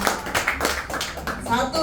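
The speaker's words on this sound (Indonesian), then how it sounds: "Ayo tepuk tangan dulu biar gak ngantuk" A church congregation claps hands together during an Indonesian sermon, a quick burst of overlapping claps with voices mixed in.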